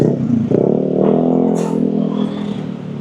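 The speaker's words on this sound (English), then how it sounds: "Noisy motorbike there." A motorbike engine drones and revs nearby on busy Jalan Kartika Plaza in Kuta, Bali, steady and loud with a slight rise in pitch.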